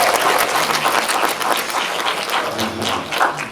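A cinema audience claps at a post-screening talk with the cast of the film '1987' at CGV Yeongdeungpo, a dense, steady patter of many hands filling the room at close range without a break.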